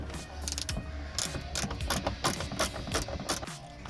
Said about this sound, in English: we need a 10mm socket ratchet extension.